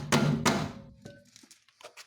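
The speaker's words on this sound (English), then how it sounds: "now pull the arm down, bang it a bit" Two heavy metallic thunks as a hammer strikes a car's suspension arm to free the drive shaft during gearbox removal on a Škoda Superb 2 with a CBBB engine, followed by fainter clinks in a home garage.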